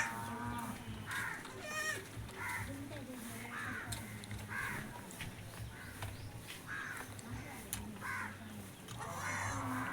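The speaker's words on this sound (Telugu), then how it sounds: "కూర్చొని తింటే బర్రెలు అరసినాయి అనేసి" Low, drawn-out bellows from buffaloes repeat in the near distance, mixed with harsh crow-like calls and a busy farmyard background.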